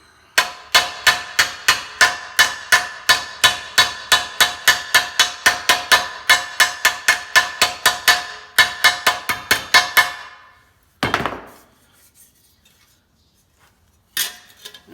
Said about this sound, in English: Ball peen body hammer